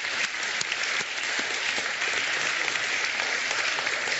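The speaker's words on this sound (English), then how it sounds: "you deserve really a big applause for each of us" An audience at a food and nutrition forum's closing session applauds steadily, a dense, even wash of many hands clapping for the full few seconds with no voices over it.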